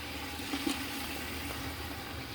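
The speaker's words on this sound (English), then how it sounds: "this is filtered water from my faucet" Filtered tap water from a kitchen faucet pours steadily into a pot, a continuous even rush at moderate level with no voices.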